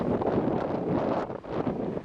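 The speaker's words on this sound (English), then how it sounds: "Tad bit windy again today." Wind gusting outdoors on a dirt-bike riding trail, blustery rumbling buffeting against the microphone that rises and falls continuously, loud and close, with no talking.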